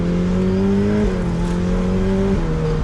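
A Ferrari 488 Pista Spider engine hums loudly and steadily at close range, its pitch dipping slightly twice as the revs are modulated, with no voices over it.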